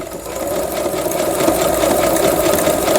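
A Brother CS155LA sewing machine runs steadily through a wide zigzag stitch, a close, continuous mechanical whirr at an even rhythm with no talk.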